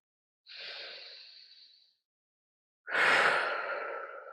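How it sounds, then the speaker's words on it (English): A slow, deep breath drawn in and then fully released, two long airy swells separated by a brief pause, close and clear with no talk. "Fully in, fully out."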